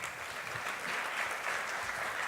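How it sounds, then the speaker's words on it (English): Brief round of applause from the audience at an international conference on the Safe Schools Declaration, steady, even clapping at moderate distance with no speech over it. "A lot of applause for the Principal Secretary."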